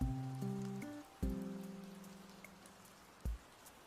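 Steady rainfall hisses beneath calm, plucked Animal Crossing music, a few sustained tones decaying slowly before another soft note lands near the end.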